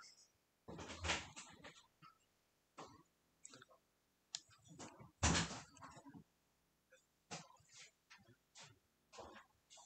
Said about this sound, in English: That's the door closing.